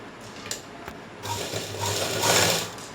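A sewing machine stitches elastic onto a pair of pants, starting with a few clicks and short stops, then running into a steady, fast mechanical whirr that grows louder close by, without any talking.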